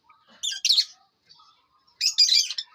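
A pet bird about seven or eight months old gives two short bursts of bright, close chirps, separated by a quiet pause.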